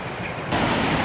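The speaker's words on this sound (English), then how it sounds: "And the Weaver's getting quite a river." The River Weaver rushes steadily near an old mill site at the edge of a town, a continuous broadband roar of flowing water with a slight swell in loudness partway through.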